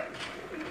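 Brief soft cooing from a pigeon of an ustad's home-bred line, a single low murmuring call alone without talk.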